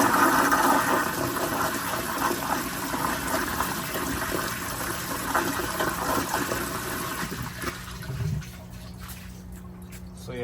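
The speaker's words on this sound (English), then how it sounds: "Here's another flush." A 1978 American Standard Glenco 4.5 gpf toilet flushes with a loud, close rush of water that roars steadily for about eight seconds, then thins into a trickling refill.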